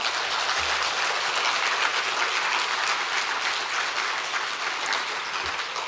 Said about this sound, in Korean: 크게 박수 쳐주시기 바랍니다